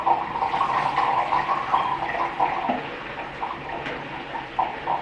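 Developer liquid poured back into a film developing tank for home color film processing, a continuous close splashing gurgle that eases slightly toward the end, no talk.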